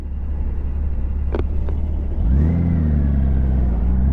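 A 2002 Honda GL1800 Goldwing motorcycle cruises on the interstate at around 70 to 75 mph, producing a smooth, steady engine rumble under wind noise that swells slightly as the engine note rises partway through.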